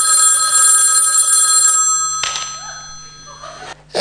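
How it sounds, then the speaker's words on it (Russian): An old telephone bell rings in an apartment, a steady loud metallic trill that cuts off partway, followed by quiet room noise and a brief click at the end. "В какой-то квартире звонит телефон."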